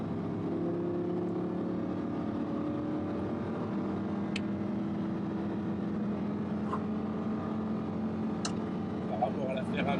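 Steady engine hum from inside a car during a road driving course, the tone rising gently as it accelerates, continuous and moderately loud for the whole stretch.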